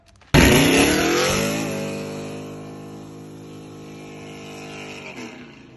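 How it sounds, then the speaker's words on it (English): Car spinning its tires on Mount Zion Road in Morrow, Georgia, bursting in abruptly with a loud, close engine roar and tire howl that peaks, eases slightly and holds steady before cutting off. "Let me go see this man still spinning tires."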